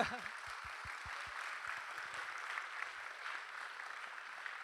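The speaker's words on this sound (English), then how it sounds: "let's give another round of applause for all of our staff at hard work." Sustained audience applause for retreat staff fills the room at a steady level, with a few words spoken at the start over the clapping.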